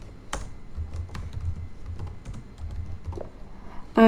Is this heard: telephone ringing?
no